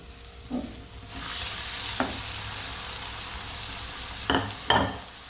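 Salt-boiled flat beans fry in spice masala, making a steady sizzle broken by several scraping stirs of the spoon, close and clear, with no talking.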